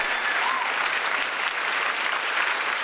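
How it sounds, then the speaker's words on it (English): Audience applause from a large crowd at a rock performance, dense steady clapping that fills the whole moment without a break. "The crazy applause."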